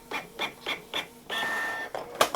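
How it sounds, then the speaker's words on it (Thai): An IP 2700 inkjet printer runs a test page: a quick series of four short whirring passes, then a longer sustained mechanical feed whine and a final clack, close and clear. "ตอนนี้ที่ปรินเตอร์ก็กำลังออกมานะครับปริ้น test page"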